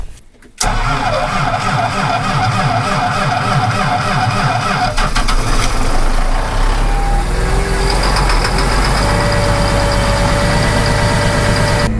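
A tractor engine in frozen weather catches and settles into a steady, loud idle close by, with a deep continuous rumble and some mechanical clatter and no talking.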